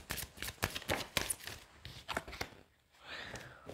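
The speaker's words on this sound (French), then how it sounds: "Je vais prendre une carte en plus." Tarot cards handled and drawn during a reading: quick papery flicks and snaps come in a rapid cluster, then a few scattered slides and taps, close and fairly quiet.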